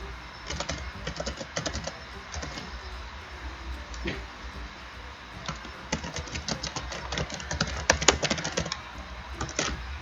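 Rapid, uneven keystrokes on a computer keyboard entering text in a design web app, close and fairly crisp, with bursts of clicks and short pauses and no voices.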